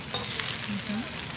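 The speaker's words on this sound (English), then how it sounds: "So I put some old vegetables in there, just to help season the wok." Old vegetables sizzle in a new carbon steel wok being seasoned, a steady close hiss and crackle of frying with faint scraping, lasting just over a second, with no talk.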